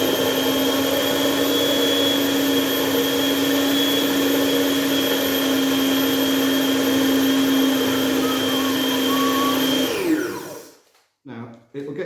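A kitchen blender whizzes cooking ingredients in a loud, steady, high motor whine for about ten seconds, then spins down and stops, followed by a few brief knocks.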